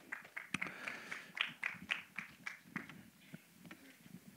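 Audience applause at a film trailer launch event for Anil Tharani, with scattered, irregular claps rising and falling at a moderate, somewhat distant level for a few seconds.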